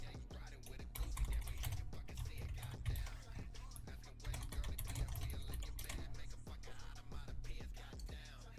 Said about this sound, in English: you guys hear my keyboard when I'm typing